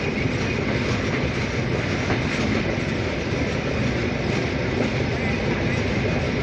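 The 728 Rupsha Express intercity train, hauled by locomotive 6623 from Chilahati to Khulna, rumbles steadily and loudly at speed near Syedpur, its wheels clattering on the rails throughout.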